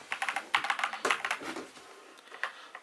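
Rapid keystrokes on an Attack Shark K75 mechanical keyboard, a close, clattering run of taps with uneven rhythm and brief pauses, heard alone without talk.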